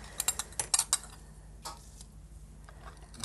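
A vitrograph kiln heating up for an enamel-painting project clicks and ticks several times in quick succession in the background, then a few fainter isolated clicks over a low steady hum.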